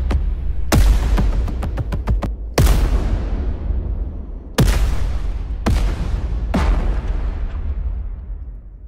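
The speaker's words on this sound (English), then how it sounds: "we have some beautiful explosions that sounds like this" Several loud booming explosion sound effects go off one after another, each a sharp blast followed by a long rumbling decay, with rapid crackling bursts early on.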